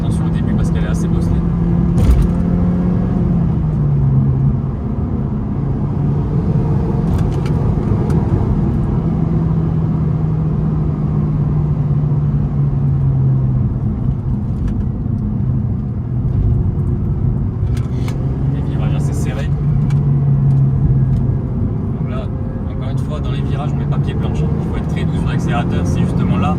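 Mazda 3 MPS driving on a bumpy road, a constant loud engine drone and road rumble with engine tones rising and falling as it changes pace. Someone talks over it throughout.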